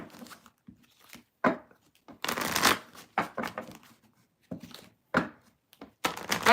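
Tarot cards are shuffled in repeated short riffling bursts separated by brief pauses, close and fairly quiet.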